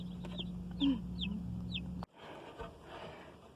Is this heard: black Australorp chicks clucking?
yes